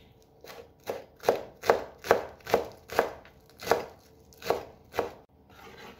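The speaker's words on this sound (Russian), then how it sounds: "Мелко нарежу зелень." Fresh herbs finely chopped with a knife on a board for a zucchini salad: about a dozen crisp, evenly spaced chopping strokes, close and clear, with no talking.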